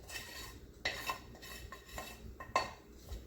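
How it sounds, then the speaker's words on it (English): A metal spoon scrapes and clinks against a pot while praline candy is dipped out, a few sharp taps and scrapes over a quiet background. "Now, I've still got candy in the pot. I can dip that out."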